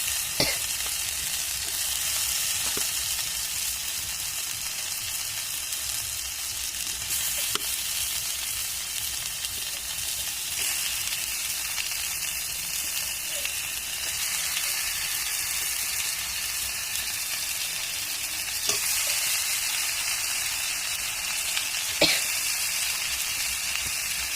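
Country chicken meat and potatoes fry together in a pan, a continuous loud crackling sizzle that runs steadily throughout with a few faint stirring clicks and no talking.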